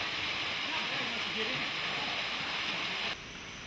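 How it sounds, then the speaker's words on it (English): Waterfall at Twin Falls on the Hana Highway, Maui, Hawaii, a steady broadband rush of falling water heard continuously up close, dropping slightly in level near the end. "And here we have one of the 5 waterfalls"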